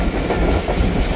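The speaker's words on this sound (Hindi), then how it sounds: "और लांडी जंक्शन पास हो रही है ट्रेन" The Tezgam express rolls through Landi Junction, heard from inside a moving AC business class coach as a loud, steady rumble with rhythmic clatter of wheels on rails.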